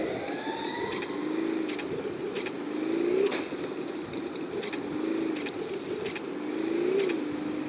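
Vehicle engine from the Free Fire battle royale game, a steady droning motor that rises and dips in pitch with repeated revving swells, accompanied by sharp intermittent clicks or taps throughout.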